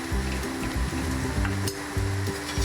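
Chicken and masala mixture with turmeric frying in hot oil, a steady crackling sizzle with a low bubbling bed and occasional stirring scrapes, close and continuous.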